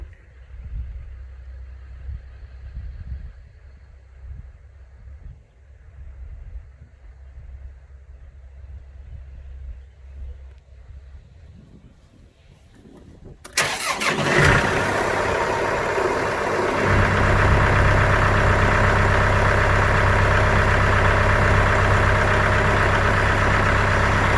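A truck approaches a gate and idles, starting as a low rumble under outdoor ambience and then growing into a loud, close, steady engine drone that holds to the end.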